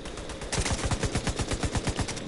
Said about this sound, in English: I don't know what the fuck this person is shooting at me